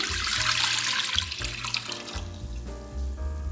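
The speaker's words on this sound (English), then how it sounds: "we're going to start with 4 cups of beef broth. Let's pour this in." Four cups of beef broth pour into an Instant Pot in a home kitchen, a close, steady liquid splash that shifts slightly in tone as the pot fills.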